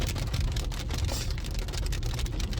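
Hail pelts a car in late April, a dense, steady rattle of hard pellets drumming on the metal and glass, loud and continuous with no pauses and no talk.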